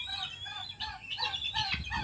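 Chickens cluck and a rooster crows nearby, several overlapping calls in quick succession with no talking.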